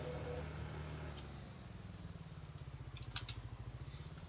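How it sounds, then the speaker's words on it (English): International tractor engine idling in a farming simulator game, a steady low diesel throb with a faint rhythmic clatter that runs throughout the few seconds, no voices over it. "there is the International tractor ready to go"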